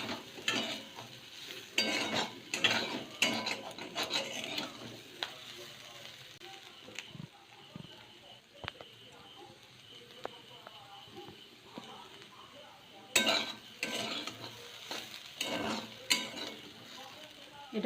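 Spiced masala bhaja fries in a pan at home, a quiet sizzle punctuated by bursts of stirring and scraping, with people talking over it.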